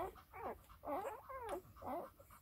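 Week-old English Springer Spaniel puppies nurse close by, giving repeated high, wavering whimpers and squeaky yips in several bursts over a faint low suckling background, with no talking.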